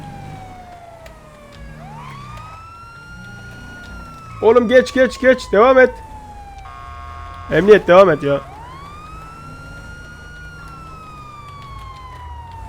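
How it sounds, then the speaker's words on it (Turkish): A police siren in the video game GTA 5 wails and sweeps in rising and falling tones throughout, while someone shouts urgently over it in two short bursts. "Hepsi durdu bak. Şu siren yüzünden galiba."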